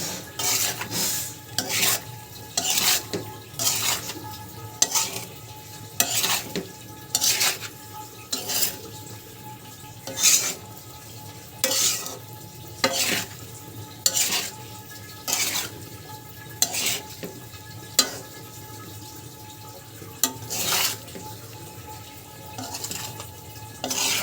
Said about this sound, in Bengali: এখন ভালো করে মিশিয়ে নিব। হাত দিয়ে মাখলে হাত জ্বালা করতে পারে, তাই আমি চামচ দিয়ে মিশিয়েছি।